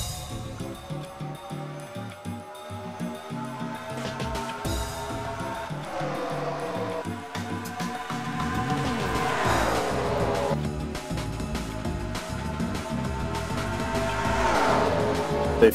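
A pack of race cars roaring through the turns at Michigan in a racing video game league event, engines revving and shifting up and down in rising and falling sweeps, steady and loud, with a commentator talking over them.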